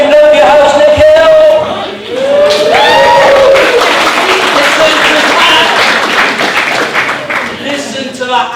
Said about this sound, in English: Listen to that apathetic round of applause.